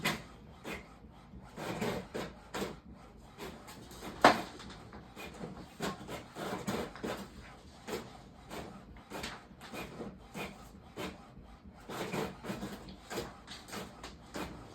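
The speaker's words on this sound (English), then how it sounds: "somebody is printing on my printer." A home printer runs nearby, its rhythmic mechanical whirring and scraping sweeps repeating steadily with brief pauses and one sharp clack along the way.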